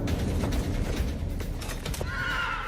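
A horse whinnies amid a busy reenacted scene of conquistador cavalry attacking Incas, the neigh rising clearly near the end over a dense rumble of hooves and commotion.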